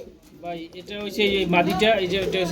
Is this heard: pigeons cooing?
yes